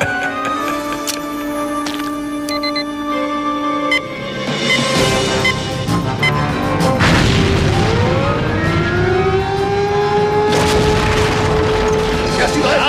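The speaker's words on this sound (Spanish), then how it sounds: "¡Una explosión!" In an animated TV episode, a deep, heavy boom erupts partway through, followed by a rumbling wash of noise and clattering debris, with machinery-like hum underneath throughout.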